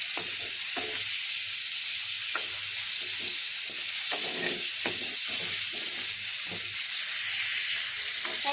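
Koi fish fry in hot oil, producing a continuous hissing sizzle with scattered small pops and crackles heard up close for several seconds and no clear talk.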